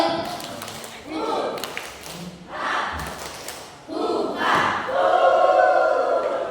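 A group performs the 'tepuk rimba' clapping chant, with shouted chanted calls, taps and claps in an irregular rhythm, ending in a sustained group voice.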